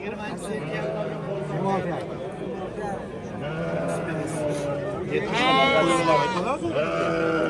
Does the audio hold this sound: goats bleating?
yes